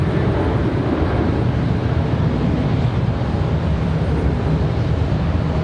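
A One World airliner departing Charlotte Douglas airport, heard as a steady, broad jet roar that holds level throughout with wind-like rushing, no voices.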